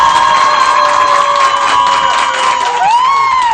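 A television studio audience on a French talk show cheers and applauds a guest, a loud continuous mix of shouting, whoops and clapping with high excited voices rising and bending near the end.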